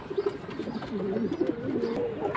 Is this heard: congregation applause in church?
no